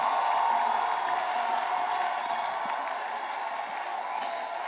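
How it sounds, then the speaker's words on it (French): Applause and cheering from a gathered crowd, offered in praise of Jesus Christ at a religious meeting; a dense, steady wash of clapping with faint voices throughout, easing slightly toward the end. "Offre l'acclamation à Jésus-Christ."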